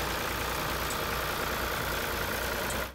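A Double Master 4 thresher for peanuts and dry beans, towed behind a tractor, gives a steady, loud mechanical engine drone that holds evenly before cutting off at the very end.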